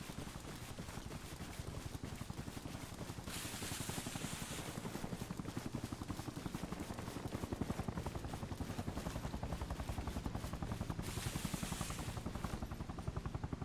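Helicopter rotor in a jeep simulator game, a quiet rapid chopping pulse running steadily throughout, with hissy bursts rising over it at times and no talk.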